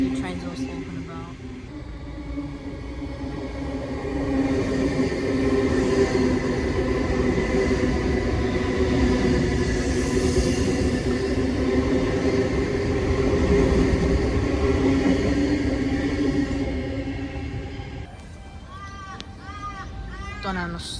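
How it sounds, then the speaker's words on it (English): A Cronulla passenger train rolls through Penshurst station with a long, steady rumble and rail hum that builds, holds for several seconds, then eases away. "there goes this Cronulla train, T23, I believe it is, and T19"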